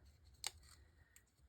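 Two quiet, crisp snips of tiny scissors cutting paper, one sharper than the other, in a near-silent room with a low hum underneath.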